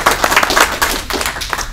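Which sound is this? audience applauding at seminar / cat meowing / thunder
audience applauding at seminar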